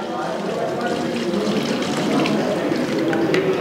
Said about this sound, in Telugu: ఇలా కలుపుకున్నాక నీళ్ళు పోయండి మొత్తం.